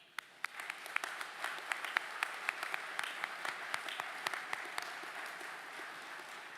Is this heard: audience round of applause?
yes